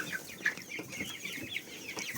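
Several chickens in a barn cluck and chirp continuously at close range, a busy overlapping chatter of short peeping calls.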